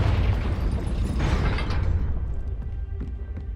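A Confringo fire spell explodes in the video game Hogwarts Legacy, a loud close blast with crackling debris that rumbles and slowly decays over a few seconds.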